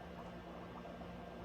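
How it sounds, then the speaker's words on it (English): Dry ice bubbling in water, a faint, steady low burble and fizz with no voices, the reaction settling down as the water cools. "It's stopping because the water is getting too cold and the dry ice is not turning into a gas fast enough"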